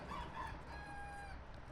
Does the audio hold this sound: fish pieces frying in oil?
no